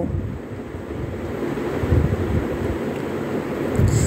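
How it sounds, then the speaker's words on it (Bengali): Palm fruit fritters (taler bora) frying in hot oil, a steady, dense crackling sizzle that runs throughout, close and fairly loud with no talking. "আমি একটা একটা করে এভাবে বড়াগুলোকে উল্টিয়ে উল্টিয়ে ভেজে নেব"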